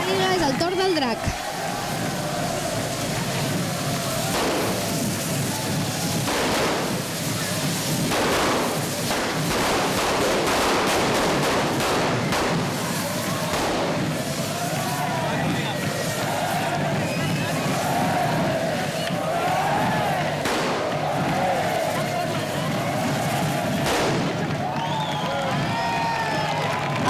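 Firecrackers blaze on the Drac fire-beast during the final dance of the Festa Major de Sitges, a dense continuous crackle of rapid pops running throughout, mixed with crowd noise and cheering.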